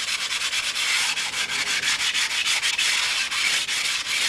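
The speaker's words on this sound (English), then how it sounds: "This is about how long I would be sanding each side." A wooden piece is rubbed by hand on sandpaper, ideally held flat on a table, producing steady rhythmic scratchy strokes, close and fairly loud, one pass after another with no pauses or voices.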